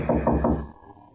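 Three firm, evenly spaced knocks on a wooden back door, close and hollow-sounding, followed by a brief quiet pause.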